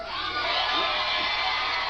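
A live country concert audience cheers and whoops loudly and steadily, a dense roar of voices with no single speaker standing out.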